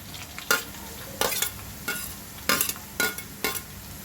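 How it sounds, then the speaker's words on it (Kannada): Crushed garlic frying in a pan for crispy avalakki, with five or six short bursts of sizzling and stirring at a close distance, separated by quieter gaps. "ಇವಾಗ ಜಜ್ಜಿ ಇಟ್ಕೊಂಡಿರೋ ಬೆಳ್ಳುಳ್ಳಿನ ಹಾಕ್ಕೊಳ್ತಾ ಇದ್ದೀನಿ."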